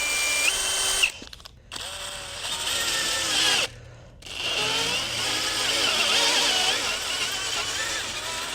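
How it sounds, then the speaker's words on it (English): An electric drill whines as it bores out damaged threads in an aluminum part for Time-Sert thread inserts, running in bursts with two short pauses, its pitch wavering under load. "Got the holes drilled out."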